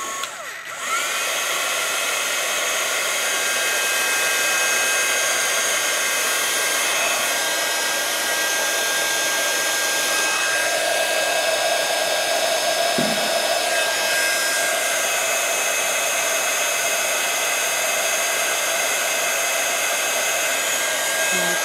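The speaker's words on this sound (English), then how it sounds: "blast it with heat gun, excuse the heat gun, whilst I give it a blast" A heat gun blows steadily over a stencilled craft card, a loud, continuous whooshing roar that runs unbroken for the whole stretch with no talking over it.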